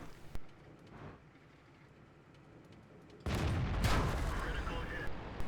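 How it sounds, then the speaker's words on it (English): Tank cannons trade fire in a desert video game battle around a dune and rocks: a sharp early shot, quiet rumble, then a loud blast and sustained roaring, crackling aftermath. "So we're going to have a little shootout here."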